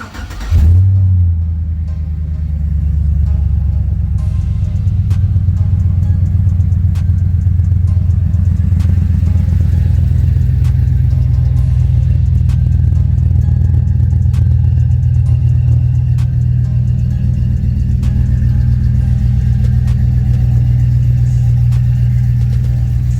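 A truck engine, freshly back on the road after a transmission repair, starts up close by and settles into a loud, steady, deep rumble that runs without a break and with no one talking.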